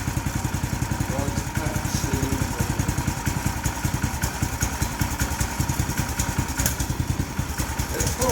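A cold Predator gasoline engine on a log splitter runs close by with a rapid, even thumping putter that holds steady throughout, with a voice talking over it.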